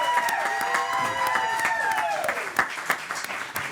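Audience applause greets a country singer at a music show: steady close clapping from a crowd throughout, with a bit of cheering and a voice speaking over it.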